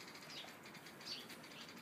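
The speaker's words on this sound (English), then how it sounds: "Yeah, hearing the birds." Faint birds in the distance, with a soft flutter of wings and a couple of thin chirps over a quiet outdoor hiss.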